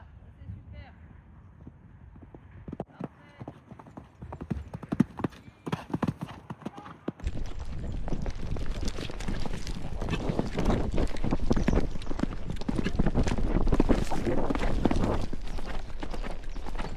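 A horse trots during show-jumping training, its hooves clip-clopping in a rhythmic beat that grows louder and nearer, mixed with wind noise and occasional voices.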